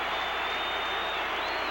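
Baseball stadium crowd at a 1981 San Francisco at Montreal game cheering after a Montreal double, a steady broad roar of distant voices and applause filling the whole moment without a break.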